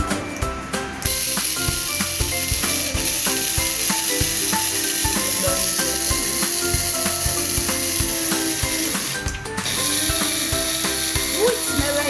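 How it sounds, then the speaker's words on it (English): Coffee beans are being ground at home, a continuous close rattling, gritty crunch with ratchet-like clicking that runs steadily the whole time, loud and unbroken apart from a couple of brief dips. "So we're grinding our coffee now."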